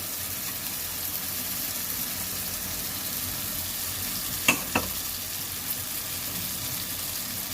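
Potatoes frying in spice paste for katla fish curry, a steady close hiss of sizzling oil throughout, broken by two brief clinks of a spoon stirring the pan, with no voices.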